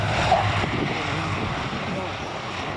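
Battle of Britain Memorial Flight warbirds approach at the Shoreham airshow, a steady, broad propeller-engine drone building from a distance amid crowd ambience.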